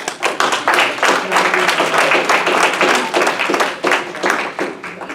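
Audience applause at a speech competition, a dense, steady wash of many hands clapping at close range, lasting several seconds without pause.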